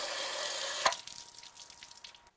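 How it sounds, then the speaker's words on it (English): Water sputtering and dribbling from the lifted lever of an RV water heater's temperature and pressure relief valve, a short hissy splash with a sharp spurt near the start, close up. "you will get water at the valve"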